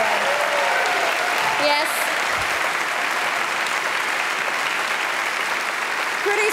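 Strong, sustained applause from an awards ceremony audience celebrating community television in Australia, a thick steady roar of clapping, with a brief spoken word and a few whoops over it.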